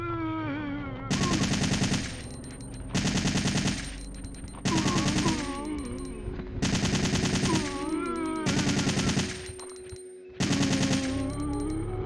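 Gunfire in the video game Resident Evil 3: Nemesis, loud bursts of rapid automatic shots in a steady on-off rhythm, five or six volleys over game music and sounds.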